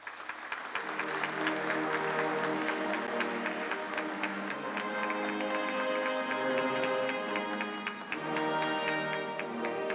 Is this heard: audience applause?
yes